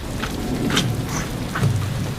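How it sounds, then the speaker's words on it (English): Monsoon rain in rural Nepal falls steadily in a dense, even hiss, with occasional brighter splashes and low rumbling underneath, heard continuously and fairly close. "We're going back as it started raining."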